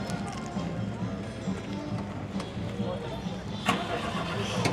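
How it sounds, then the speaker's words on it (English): Cars starting up at an evening cruise-night car meet, with rain beginning: a broad rumble of idling and starting engines runs throughout, with a brief louder burst near the end and people talking in the background. "as you can hear, we've got cars starting up"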